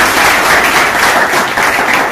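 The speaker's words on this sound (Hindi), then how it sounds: "इनके लिए ताली बजा दीजिए" A live audience at a mobile phone repair class in India breaks into steady, dense clapping that holds loud and even throughout, with no voices over it.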